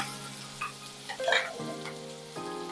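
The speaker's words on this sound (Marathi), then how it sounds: "आता आपल्याला कांदा छान लाल होईपर्यंत परतून घ्यायचा आहे" Finely chopped onions with cumin sautéing in hot oil in a pan, a steady close sizzle broken by a few stirring scrapes and a light clatter of the spatula.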